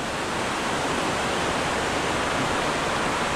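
Cambugahay Falls in the Philippines pours steadily, making a dense, unbroken roar of rushing water that fills the whole moment at close range.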